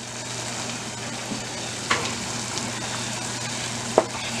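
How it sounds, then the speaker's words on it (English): Homemade chilli sizzles steadily in a frying pot while it is stirred, a close, even crackle with a low hum beneath and a couple of soft scraping knocks, no voices. "Then you stir everything up."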